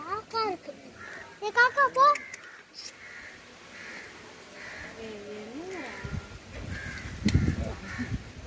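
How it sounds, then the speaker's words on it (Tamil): Crows cawing inside a peacock cage at Kurumpatti Zoo in Salem, a few harsh caws near the start followed by scattered calls, with children and adults talking throughout. "காக்கா மயில் கூண்டில் காக்கா உள்ள வந்துச்சு."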